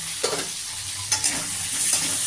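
Tomatoes stirred into a pan of frying potatoes, a steady close sizzle broken by a few brief scraping stirs of the spatula, with no voices.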